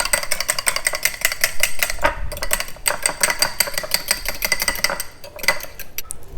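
Egg whites being beaten in a bowl for spicy chicken patties: a steady, fast clinking and scraping of a whisk or utensil against the bowl that goes on throughout, close and busy, with no one speaking.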